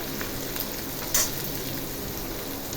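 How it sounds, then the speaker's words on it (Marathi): Finely chopped onions frying over high flame in a pan with softened capsicum for pav bhaji, a steady close sizzle throughout with one brief brighter crackle midway. "मोठ्या फ्लेमवर त्याला चांगले पिंकिश कांदा होईपर्यंत भाजूया."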